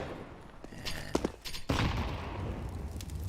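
Pistol fire in a Counter-Strike match, played at a BLAST Premier Fall Showdown esports event: a few sharp shots crack out, then a louder burst of fire that fades into a sustained rumble of in-game noise.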